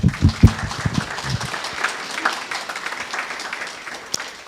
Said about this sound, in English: Don't you think they deserve some applause from us?